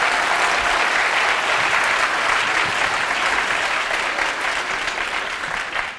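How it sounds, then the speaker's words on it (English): Loud, dense audience applause at a youth harp ensemble winter concert, a full crowd clapping steadily throughout and easing slightly toward the end. "give another round of applause to my friend Kimberly Walker."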